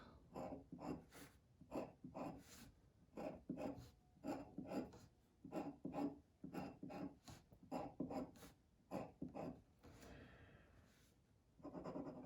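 Marker strokes scratch across a board while an orbital diagram is drawn, a steady run of quick rasping squeaks and rubs repeating through the whole stretch, fairly close and uninterrupted.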